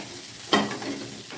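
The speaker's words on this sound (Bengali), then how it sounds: "মশলা ভালো করে কষিয়ে নিলাম এখন আলু বড়া একসাথে দিয়ে দেব" Fried potato and pumpkin-seed fritters dropped into a pan of sizzling spices, a sudden loud hiss that settles into steady frying with stirring scrapes, no voices.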